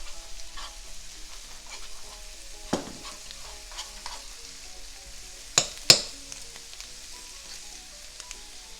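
Garlic sizzling gently in a pan, a soft steady fry broken by a few sharp stirring clacks and spatters, close and with no talking.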